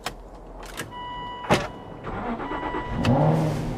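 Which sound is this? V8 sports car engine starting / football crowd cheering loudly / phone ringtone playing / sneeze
V8 sports car engine starting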